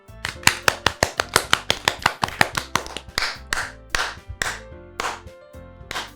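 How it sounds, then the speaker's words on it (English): Applause in the video game Doki Doki Literature Club: a small cluster of sharp, close hand claps in a quick, uneven rhythm that loosens into sparser, softer claps toward the end. "I'm the first to start applauding."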